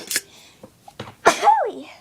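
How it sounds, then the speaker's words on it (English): A single sharp sneeze bursts out up close, followed by a brief vocal exclamation right after it. "Okay, I just sneezed."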